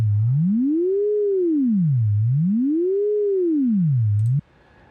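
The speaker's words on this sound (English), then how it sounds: "the frequency of the tone is going higher up and then back down again all the time" A steady synthetic tone glides smoothly up and down in pitch in a slow, regular wave, repeating twice before cutting off abruptly near the end.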